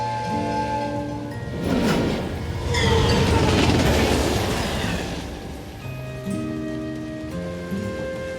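A train riding along in the video game Neverness to Everness, its rushing, rumbling noise swelling up and fading away beneath steady background music.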